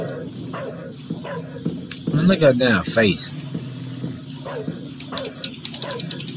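A dog in a video game whimpers and yips in a short burst of high, wavering cries amid game noise, while someone talks loudly over it.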